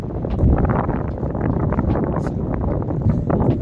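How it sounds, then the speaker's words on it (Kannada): Strong wind in Chikkamagaluru roars close and loud against the microphone in a continuous, gusting rumble, with no voices. "ಸೊ ಗೈಸ್ ವಿಂಡ್ ಸೌಂಡ್ ಬರ್ತಿದೆ"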